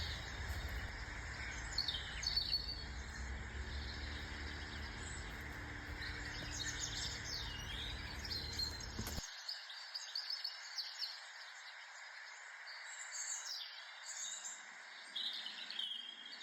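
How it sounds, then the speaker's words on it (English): Birds chirping and tweeting steadily over a dense, hissing outdoor ambience with an insect-like drone. The low rumble cuts out partway through, leaving only the bright, continuous chirps. "Those birds are beautiful"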